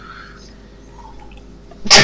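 One loud, sudden sneeze close to the microphone at the very end, after a quiet stretch with faint background sound.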